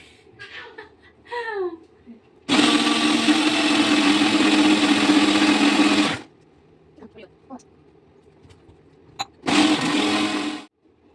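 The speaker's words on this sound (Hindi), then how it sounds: "वो मिक्सी की आवाज़ से भी डरता है" An electric mixer grinder blends a mango shake in a home kitchen, a loud steady whirring roar for about four seconds, then a second short burst after a pause, with faint household noises in between.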